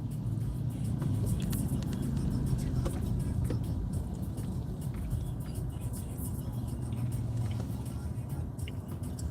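Cars pass steadily along a road in a continuous low rumble of traffic, moderately distant, with a faint voice talking underneath.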